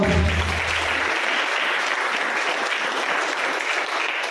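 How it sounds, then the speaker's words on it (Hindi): A church congregation at a Friday youth service claps together in a steady burst of applause, continuous and even in loudness, with a brief low tone fading at the start. "एक बार ताली बजाओ"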